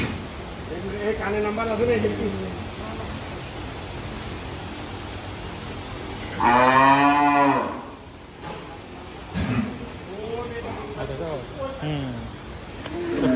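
Cattle at a large, clean Bangladeshi dairy farm with Sahiwal and Brahman crosses give several deep, drawn-out moos, one loud and close, over a constant fan-like background hum.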